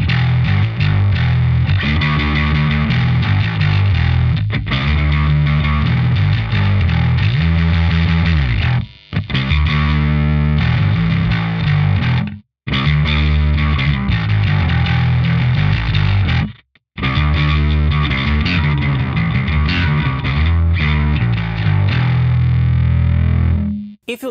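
Distorted electric bass played through a JOYO Monomyth bass preamp with the gain boost engaged, a loud, gritty, sustained riff with a few brief dropouts between phrases and no voices.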